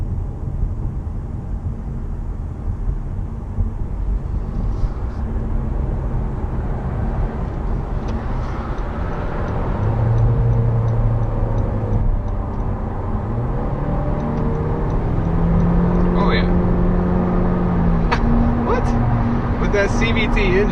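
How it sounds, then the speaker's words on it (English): A 2016 Honda Civic's small turbo engine with CVT revs up as it accelerates onto a highway, its pitch climbing steadily under road and wind noise inside the cabin. "I'm going to see how good this little turbo engine takes off."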